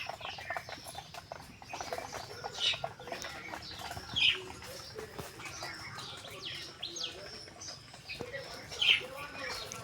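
Pigeons at a loft, with scattered chirps and soft wing flutters rising now and then over a busy, steady background bustle, a couple of sharper calls standing out.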